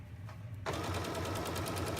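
After a quiet start, a foot-pedal sewing machine kicks in and stitches fabric for a drawstring bag, a close, continuous rapid hum that carries on to the end.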